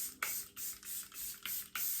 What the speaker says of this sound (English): my Charlotte Tilbury setting spray to finish off the makeup look.